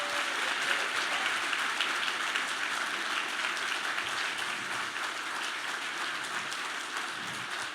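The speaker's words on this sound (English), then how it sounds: "Let's first give a huge round of applause right here." Sustained audience applause from a live comedy panel show crowd, dense steady clapping filling the room throughout at an even, fairly loud level with no talk over it.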